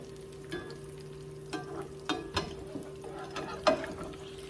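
Eggs sizzle softly in a new frying pan, with a few faint scrapes and taps as they are flipped, quiet and close with no voices.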